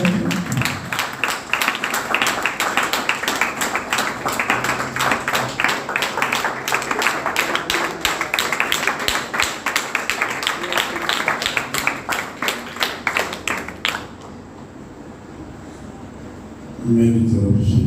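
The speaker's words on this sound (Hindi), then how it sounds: "खुदा के खादम के लिए तब तक तालियां बजती रहते जब तक वो" Congregation at a Sunday church service in Karachi clapping: dense, sustained applause for about fourteen seconds, then a brief hush before a voice begins.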